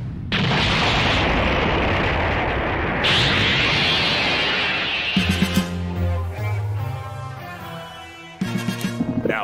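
An explosion in an animated fight starts as a sustained roaring blast for about five seconds, then gives way to crackling debris and tonal rumbles, and swells again with a second burst of sharp pops near the end.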